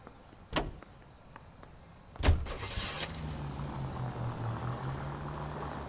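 A car in the 1940s Los Angeles world of L.A. Noire: a couple of sharp door clunks, then the engine catches and settles into a steady low running hum.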